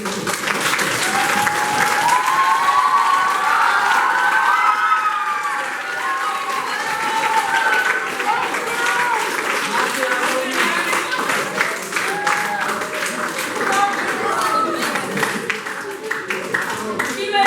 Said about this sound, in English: let's give them a round of applause for using it.